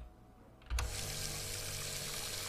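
Water in the video game Lucius 2 starting suddenly with a thud, then a steady rushing pour that continues evenly at moderate volume without voices.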